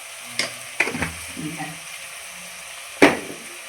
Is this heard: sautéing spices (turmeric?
yes